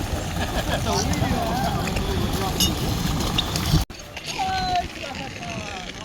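A steady low engine drone with rushing water as a motorboat moves through the Blue Lagoon in Cyprus, with voices chattering faintly over the noise.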